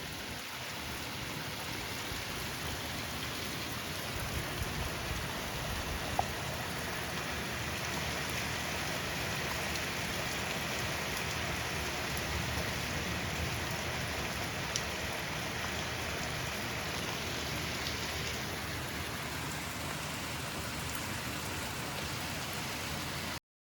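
Steady, heavy rain falls without a break at a greenhouse build site. The wash is dense and even, with a constant hiss and occasional louder drops, and no voices.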